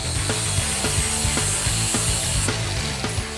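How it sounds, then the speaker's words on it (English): A chop saw cuts through a steel passenger-side axle tube on a CJ8 Scrambler, a loud continuous grinding whine with rhythmic rasping pulses roughly twice per second, close up and with no talk. "A simple chop saw does the work."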